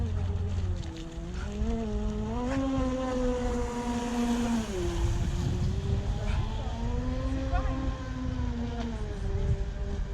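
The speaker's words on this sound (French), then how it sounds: "donc le moteur il a un peu de mal" The outboard motor of a Navicraft Rebel 8S boat drones unevenly, its pitch rising and dipping as it labors and revs, running continuously nearby with some splashing and background noise.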